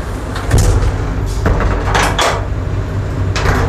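The toilet door on the executive-class carriage of the Banyubiru Express train is pulled open and shut. Several loud, close thumps and rattles sound over the steady rumble of the moving train.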